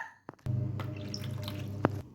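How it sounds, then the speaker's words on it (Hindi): Water poured from a tap in a doll cartoon bath scene, a steady near splashing stream after a couple of small drips, ending with a brief knock. "पानी गिराती हूँ मैं, ये लो"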